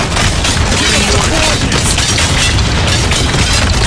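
Dense, loud gunfire and explosions in the Spec Ops video game, a continuous roar of booming bursts and shots with battle chatter mixed in.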